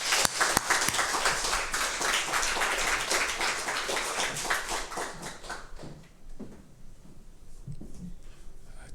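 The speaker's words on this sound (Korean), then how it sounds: "우리 목사님 나올 때 우리 환영의 박수로" A church congregation at a Sunday worship service gives a dense round of welcoming applause for the pastor. It fills the first six seconds, then thins into a few scattered claps and quiet room noise.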